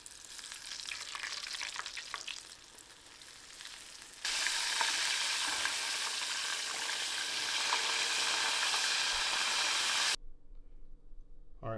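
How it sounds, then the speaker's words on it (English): Breaded pieces seasoned with Tony Chachere's frying in hot oil, a continuous hissing sizzle that swells louder midway and then cuts off, with a faint hum after. "Fry until they're golden brown"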